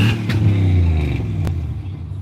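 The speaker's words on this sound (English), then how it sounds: "Truck engines, they sound good, but they just can't get the RPMs up in there." A truck engine revs up close, a deep harmonic rumble that swells early and then eases back into a steady, lower drone, with no voices.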